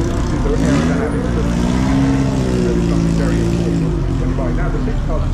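Supercars pulling away from the start line at the Goodwood Festival of Speed 2022, loud engine roar with rising and falling tones as they accelerate, heard under continuous commentary.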